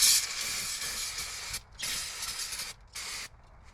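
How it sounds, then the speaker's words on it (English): An aerosol can of brake cleaner sprays in long hissing bursts with short pauses between them onto a Subaru Legacy front brake caliper, loud and close, with no voices. "Spray this down with brake clean."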